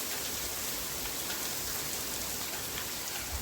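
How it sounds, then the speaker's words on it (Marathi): Steady rain falls at night as an even, hissing wash of drops, moderately soft and unbroken throughout, with no voices. "आला पाऊस मित्रांनो, आलाय पाऊस."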